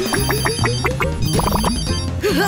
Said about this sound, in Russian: Ой, это же мой мобильник!